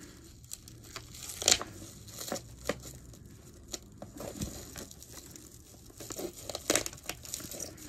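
Paper and plastic wrapping crinkle and tear in short bursts, with a few sharper rips standing out near the start and end.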